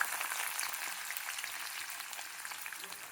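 Onions sizzling and crackling in hot oil for a bitter gourd (kakarakaya) masala, a dense, bright, continuous frying hiss that fades slightly toward the end, close and loud with no talking.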